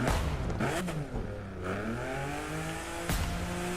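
Engine revving and rising through gears as a car is driven in The Crew 2 racing game, a steady loud whine climbing in pitch with brief shifts, no talk over it.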